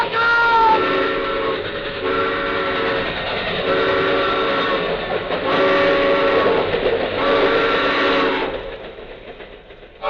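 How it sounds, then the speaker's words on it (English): A train rushes past in an old radio drama sound effect, a loud steady rumble with repeated horn-like tonal blasts swelling and fading over several seconds. "The train! Look out!"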